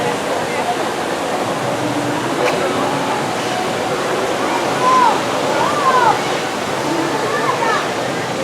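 Amusement park water fountain splashing steadily at Kennywood, a continuous rushing wash of falling water with faint bird chirps and distant voices mixed in.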